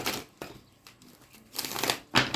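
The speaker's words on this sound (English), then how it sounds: "Let me get you some good shuffles in." Rider-Waite tarot cards shuffled by hand in quick, crisp riffling bursts separated by short pauses, close and moderately loud, with no voice.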